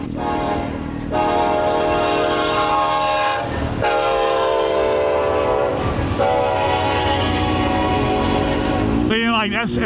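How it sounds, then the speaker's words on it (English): A train rumbles past close by, its horn blaring in long sustained blasts over the clatter of the cars. "Got a train coming? Oh, there's a train coming."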